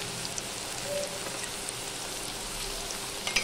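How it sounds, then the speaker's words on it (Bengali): Potatoes fry in hot oil seasoned with salt and turmeric, giving a steady, dense crackling sizzle that runs evenly throughout with no voices. "আলুগুলো আমি একটু লাল করে ভেজে নেব"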